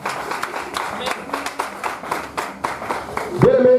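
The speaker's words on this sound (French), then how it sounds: "On peut acclamer le Seigneur bien-aimé." A church congregation claps steadily and rhythmically to acclaim the Lord during a worship service, an even beat of roughly two claps per second that carries on at a moderate level.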